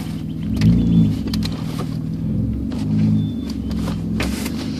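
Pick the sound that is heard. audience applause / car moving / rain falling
car moving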